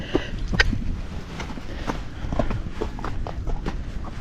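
Unshod gaited horse walking on rocks, bare hooves clip-clopping in a steady rhythm of close, crisp knocks over a low outdoor background.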